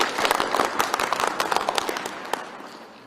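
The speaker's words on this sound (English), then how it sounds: "Shall we give them a big round of applause?" At a gathering commemorating the Marikana massacre, an audience breaks into a round of applause, with crisp, irregular hand claps that start strong and gradually thin out and fade toward the end.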